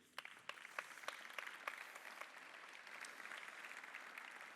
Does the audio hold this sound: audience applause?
yes